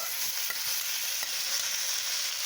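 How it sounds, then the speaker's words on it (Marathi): Okra (bhindi) sautéing on a tava, a soft continuous sizzle with a couple of faint utensil taps, close but fairly quiet. "वाव, आता तव्यावर परतणार आहे."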